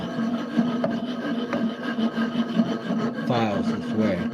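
A hand file rasps across wood in short, repeated scraping strokes, close and fairly quiet, with a voice briefly speaking near the end.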